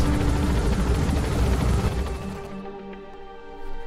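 Extraction helicopter in Metal Gear Solid V, loud rotor roar for about two seconds that cuts off abruptly, leaving faint tonal game sounds afterward.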